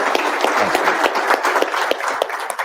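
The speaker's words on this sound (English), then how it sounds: "So let's give the 17th SMA a big round of applause." An audience at an AUSA Coffee Series event for the Sergeant Major of the Army gives a loud, dense round of applause, with sharp individual claps standing out steadily over a continuous crowd wash throughout.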